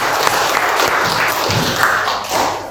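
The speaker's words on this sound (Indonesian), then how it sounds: "Kita kasih tepuk tangan dulu." Classroom applause from students, with dense, loud clapping mixed with taps and thuds and some faint voices underneath.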